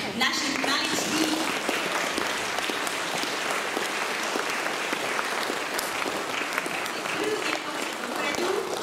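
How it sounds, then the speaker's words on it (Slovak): Sustained, loud applause from an audience at a children's Christmas concert of a music and drama school, welcoming the youngest performers, with voices audible amid the steady clapping. "veľkým potleskom privítajme našich maličkých"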